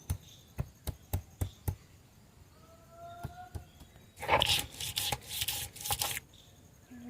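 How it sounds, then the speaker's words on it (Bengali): Ginger is ground with a grinding stone, first a row of sharp, evenly spaced taps, then a loud scraping, rubbing stretch of stone against stone, close by and with no talk over it. "আদাটাও বেটে নিই।"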